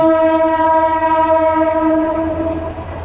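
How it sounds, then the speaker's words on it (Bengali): A passing train sounds a loud, sustained horn over a rumbling rail background, the blast holding steady for about three seconds before easing off near the end. "ওইসব জায়গায় ট্রেন যেতেছে"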